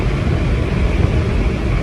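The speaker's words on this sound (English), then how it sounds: "You probably heard that engine though. That's that 4-liter, that V8 twin turbo." Porsche Panamera Turbo with its 4-liter twin-turbo V8 accelerating hard after passing a slow truck, a loud, steady low rumble and roar heard from inside the car with no break.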